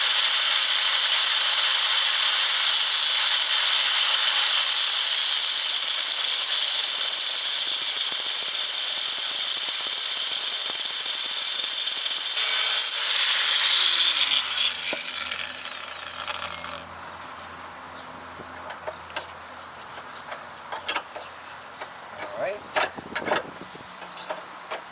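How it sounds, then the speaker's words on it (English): A loud, high-pitched angle grinder whines steadily as it cuts through a strut nut on a Toyota Supra for about fifteen seconds, then winds down, leaving scattered clinks and handling noises. "I'm going to use the angle grinder and splice it in order to get out the nut out"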